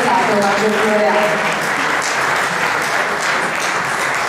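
Dense, steady applause from an audience at a poetry award ceremony, filling the hall for the whole stretch, with some voices faintly mixed into the first second.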